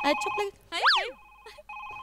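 An electronic telephone ringtone sounds in short repeating tonal bursts, with a brief swooping voice-like sound between the rings.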